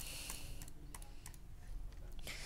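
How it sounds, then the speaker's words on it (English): A computer mouse double-clicks during butterfly clicking, giving a quick irregular run of faint, sharp clicks over a steady background hiss, with no talk. "you can like hear the mouse double click whenever you click it like this"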